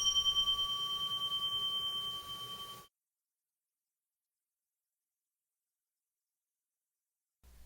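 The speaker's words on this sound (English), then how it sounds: "until the jikijutsu begins the practice session by striking the bell" A single meditation hall bell struck by the jikijutsu in a Zen zendo rings with a clear sustained tone that decays over about three seconds, then silence follows.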